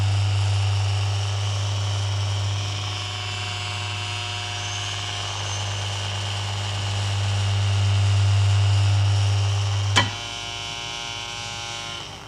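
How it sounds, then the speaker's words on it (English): A small air screw propeller drives a magnetic levitation model, producing a steady electrical hum with a whirring tone over it. A sharp click comes near the end. "I'm going to put a little air screw on it, and when I switch this on"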